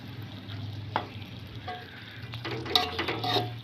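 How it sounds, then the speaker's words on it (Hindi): Water poured into a pan of sizzling peas and minced meat keema, a close, steady frying hiss with clinks and bubbling bursts toward the end, no talking. "मैं तकरीबन 1 प्याली जो है पानी इसके अंदर डाल रही हूँ"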